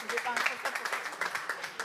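An audience at a deeptech startup event in Nice claps briefly, a light patter of applause running under a presenter's ongoing talk.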